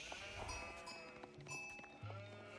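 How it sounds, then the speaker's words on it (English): Sheep bleat in the video game Age of Empires 4, several short quiet bleats scattered over soft game ambience, with a low tone near the end. "Sheep being tasked to the town center now"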